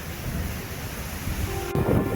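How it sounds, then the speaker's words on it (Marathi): Loud, continuous roar of strong sea waves at Kashid jetty, rumbling and close, with a brief thud near the end and no voices. "लाटा बघा मित्रांनो कसली जोरदार लाट आहे"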